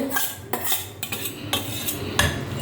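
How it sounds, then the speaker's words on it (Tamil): Mashed moong dal and potato go into a hot pan for kadappa and are stirred, giving a few close, sharp utensil scrapes and clinks against the pan with a soft sizzle underneath, without any talk. "இந்த பாசிப்பருப்பும் உருளைக்கிழங்கும் நல்லா கடைஞ்சி வச்சுருந்தேன், அதை போடுறேன் இதில்"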